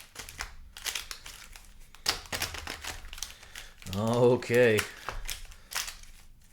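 Magic: The Gathering Tarkir Dragonstorm cards being shuffled by hand, a series of soft crinkling riffles and taps close by, with a brief spoken word in the middle.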